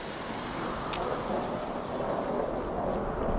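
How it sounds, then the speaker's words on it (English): A radiation storm rumbles in the Fallout 4 video game, with rolling thunder over a steady bed of rain and wind and a brief crack near the start; it is continuous and fairly loud, with no speech. "And there's a radiation storm,"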